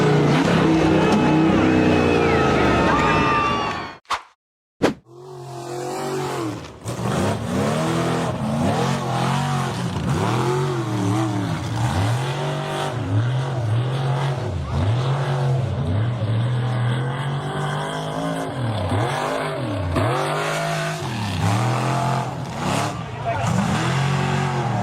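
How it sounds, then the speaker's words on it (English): A bronze-framed off-road buggy revs hard, its engine climbing and dipping in repeated bursts as it powers up a steep dirt hill, loud and close, after a brief gap near the start. "The bronze-framed buggy revved hard and powered up a steep dirt incline."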